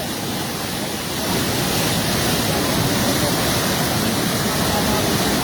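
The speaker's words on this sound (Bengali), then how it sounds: "যত সময় যাচ্ছে ততই পানির প্রবল বেগ বাড়তেছে" Floodwater of the Khowai river in Habiganj roars past a breached, eroding bank as a loud, steady, broadband rush that swells slightly early on and then holds.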